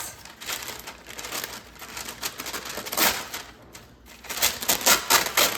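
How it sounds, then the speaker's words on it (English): Parchment paper crinkles and crumples loudly and up close as a sheet is sized and pressed into a crock pot over a roast and mushrooms, with continuous crackling bursts throughout. "I'm gonna bring in my parchment paper, and we are gonna make our parchment the size of our crock pot."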